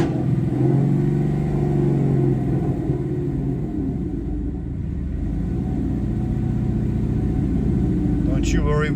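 A deep V8 engine of a 2020 Ford Mustang GT (Coyote 5.0L) rumbles steadily nearby with slight rises and falls in pitch, a low throaty idle-to-rev tone throughout.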